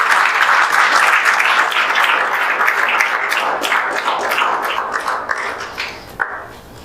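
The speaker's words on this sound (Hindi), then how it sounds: "इनके लिए जोरदार तालियां आप लोग बजा दीजिए।" An audience at an exam results celebration gives vigorous clapping that starts loud and dense, then gradually thins out and fades to scattered claps.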